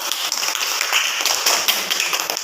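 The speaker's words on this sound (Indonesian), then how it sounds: "beri tepuk tangan untuk kelompok 1" A classroom of students claps together for a presenting group, a steady, close patter of many hands that continues for a couple of seconds with no talk over it.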